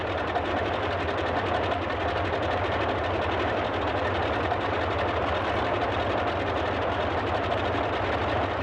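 Engines of a Boeing 247D held at 1000 RPM in Microsoft Flight Simulator 2020, a steady throbbing propeller drone with a rhythmic low pulse, continuous and close, with no talk.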